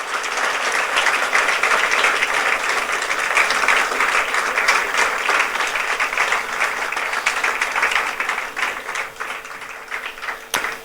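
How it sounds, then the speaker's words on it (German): A church congregation at a modern worship service bursts into big applause, many hands clapping in a thick, sustained wash that holds for about ten seconds before thinning and fading out. "Lass uns doch Ihnen noch einen grossen Applaus geben."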